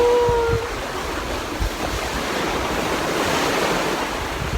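Ocean surf at Discovery Bay, Hong Kong, washes in a continuous broad roar with wind buffeting the microphone, and a brief faint tone rises in the first half-second.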